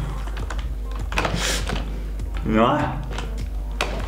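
A computer keyboard hammered by a child pressing many keys at once during a game, rapid close clicking and tapping bursts, with voices speaking over it.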